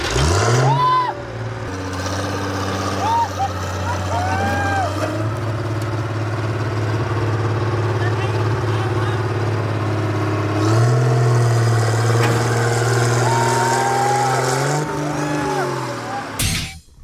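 A road roller's heavy diesel engine drives up onto a car in an extreme crushing experiment, a steady loud low rumble throughout with revving swells near the middle and end, while people talk over it.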